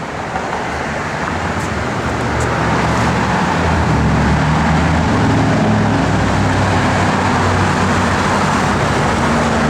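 A 1971 Dodge Demon with a sport hood runs and drives, giving a steady, loud, broadband engine and road rumble that holds evenly throughout with no talking.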